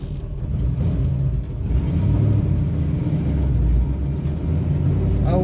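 A small Chevy Nova engine drones and swells on its first drive with a manual clutch, a steady close rumble rising into a brief rev midway, with no talk.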